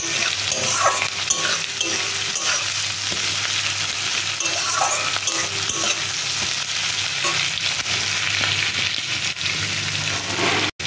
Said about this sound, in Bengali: পেঁয়াজ কুচি দিয়ে এটাকে যতক্ষণ না পেঁয়াজটা লাল লাল হয় ততক্ষণ আমি ভাজতে থাকবো।